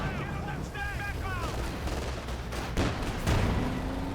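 Tank cannon fire in the strategy game Company of Heroes 2, a heavy Jagdtiger shot striking a T-34, heard as a few loud booming bursts amid ongoing battle noise, with faint voices in the background.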